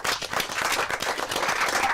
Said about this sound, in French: Allez, on applaudit pour lui.